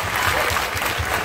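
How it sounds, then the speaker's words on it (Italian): Italian audience applauding in a large hall, a dense, steady wash of clapping heard up close and loud throughout, with no voices over it. "meritano veramente un supplemento di applausi"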